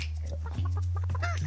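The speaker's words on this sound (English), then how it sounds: "What about the chickens?" Chickens cluck in a short, close burst of soft game-sound clucks over a steady low hum in the video game Burly Men at Sea.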